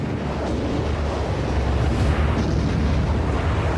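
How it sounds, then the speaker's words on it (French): Naval bombardment shells the Normandy beaches on D-Day, June 1944, as a continuous, loud roar of rumbling explosions. The dense, broadband blasts blend into one another with no clear gaps and no voices. "Le fracas des explosions était effrayant."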